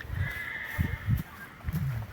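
A horse at a farm offering horses for sale neighs in a drawn-out whinny, with a few low thuds and shuffles from the animals nearby and no clear talk.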